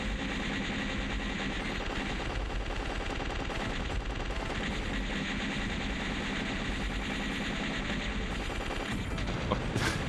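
Nonstop rapid-fire shooting from the shoot-'em-up video game Legend of the Steel Empire, a dense, steady rattle of bullets mixed with game music and effects, loud and unbroken throughout.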